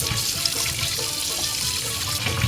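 A steady, hissing pressurized water spray runs continuously at close range, a hose jet splashing onto a palu fish to wash off mud and slime, with no voices.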